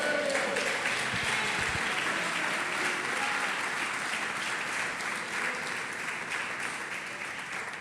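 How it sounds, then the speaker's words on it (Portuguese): Church congregation applauding during a sermon, a broad, sustained patter of many hands that stays even and moderately loud throughout, then eases slightly near the end. "Posso ouvir um amém da igreja, um aplauso a Jesus?"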